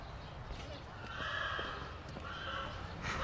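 A horse whinnies a few times over quiet background noise at a zoo, with faint hoof sounds and a soft voice murmuring now and then.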